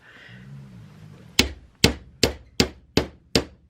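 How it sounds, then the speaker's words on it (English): Six sharp metallic taps from the round end of a hammer texturing wire on a bench block strike at an even pace, each ringing briefly, after a short stretch of quiet low hum. "texture the wire with the round end of the hammer"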